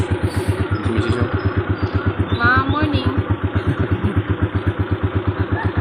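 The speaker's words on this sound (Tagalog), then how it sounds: "Pinapainit ko muna yung motor para ayos." A motorcycle engine warms up at idle, its steady low pulsing firing rhythm close and continuous throughout, with a brief spoken greeting over it.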